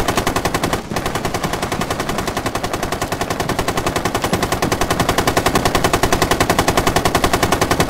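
Sustained automatic gunfire in the video game Rainbow Six Siege, a loud, rapid, unbroken stream of shots that runs the whole stretch with only a brief gap near the start.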